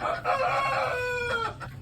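A rooster close by gives a short burst of clucking and a brief crow-like call, loud and clear over a quiet farmyard background.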